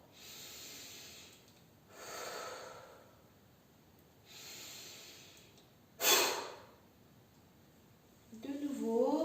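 Slow, deep breaths during a relaxation exercise come close and quiet as long airy inhales and exhales, one every couple of seconds, ending with a sharper breath before a voice begins speaking.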